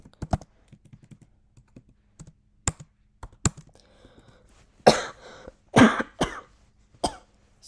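Keys on a computer keyboard are tapped in short scattered clicks. Someone coughs and clears their throat in loud bursts partway through.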